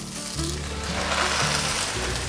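Chinese cabbage leaves drop into a hot wok of tofu and celery stir-fry, setting off a loud burst of sizzling that keeps hissing, with a low rumble of the burner underneath and no talking.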